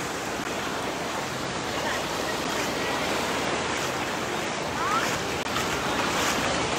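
Ocean surf washing onto Wildwood beach on a humid afternoon, a continuous broad rush of waves with wind buffeting the microphone, steady and fairly close.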